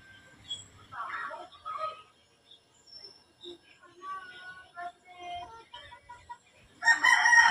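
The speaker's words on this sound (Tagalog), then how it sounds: "white kelso Firebird line" A white kelso gamefowl of the Firebird line crows close by, a loud burst at the end following scattered clucks and soft bird calls, with faint voices in the background.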